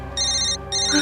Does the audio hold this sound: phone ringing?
yes